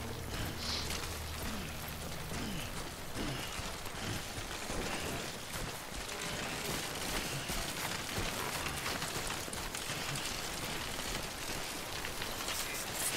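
Steady, dense rain in the PS4 game Death Stranding, a continuous hiss of drops on surfaces at even loudness throughout, with no one talking.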